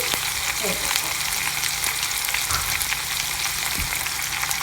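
Garlic sizzles steadily in hot oil in a pan while cooking spinach dal, a dense, constant frying hiss with a few faint stirring scrapes and no talking.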